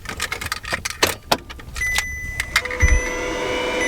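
A key goes into the ignition of a 2009 Audi TT and turns, with keys jangling, a few clicks, and electronic chimes as the dash wakes, then a low thump near the end, all close-up indoors in the car.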